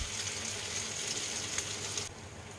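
Poppy seed fritters stuffed with coconut and onion fry in hot oil with a soft, constant sizzle that eases slightly near the end of the brief stretch.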